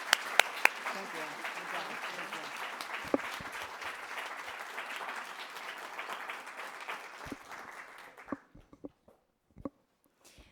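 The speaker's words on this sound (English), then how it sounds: "Let's give her a big round of applause" A big round of applause breaks out for a woman invited up at a morning data release event, a dense wash of clapping from a sizeable audience that holds steady for about eight seconds before thinning into a few scattered claps.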